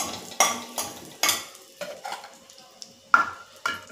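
A metal spoon stirs turmeric, red chili powder and garam masala in hot oil in a kadhai, giving sharp scraping clinks and taps at an irregular pace with a faint sizzle underneath, close and without talking.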